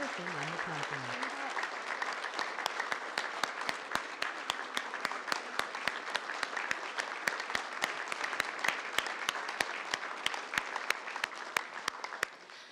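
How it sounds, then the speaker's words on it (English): Steady audience applause at a city council meeting during an award presentation, a continuous moderate wash of many hands clapping with crisp individual claps, lasting throughout with a brief voice at the start. "Please join me in congratulating the many faces of the West Valley Art Museum present with us today and those who could not be here with us with a round of applause"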